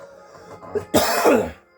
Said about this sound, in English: I got a cough there